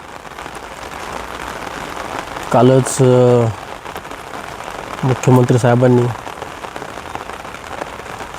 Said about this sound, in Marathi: नाशिकमध्ये चालू आहे जोरदार पाऊस।